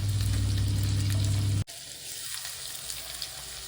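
Onions and green chillies fry in hot oil in a pan with a loud, steady sizzle that cuts off abruptly partway, leaving a quieter kitchen background.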